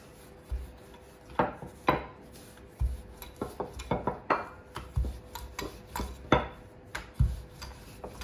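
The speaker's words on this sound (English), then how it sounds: "Get some flour on the surface so it doesn't stick, and I'm going to roll this" A rolling pin works naan dough on a floured surface, giving soft, irregular rubbing and thudding strokes. The rhythm is close and quiet, with no talking.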